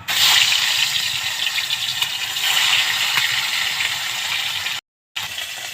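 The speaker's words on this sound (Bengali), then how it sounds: "তো চলো মাছটা আমি ভেজে নিচ্ছি।" Fish frying in hot oil gives a loud, dense, steady hiss with faint crackles, broken by a brief drop-out near the end.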